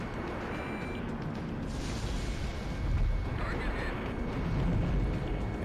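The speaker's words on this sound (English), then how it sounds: "I gotta stay above it when it fires its shock cannon" In Ace Combat X, an enemy shock cannon fires with heavy, rumbling blasts that swell and roll twice over the game's background noise, while a player talks over the action.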